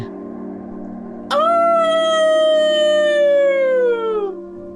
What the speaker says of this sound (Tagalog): Muling alulong ng isa tila aso.